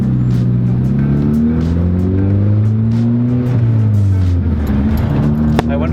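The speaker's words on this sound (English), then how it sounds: "I wonder how much of the exhaust noise they can hear." Low, droning exhaust rumble of a 6-speed manual Mazda 3 while driving, engine note rising and falling steadily throughout, loud and close, with faint voices underneath.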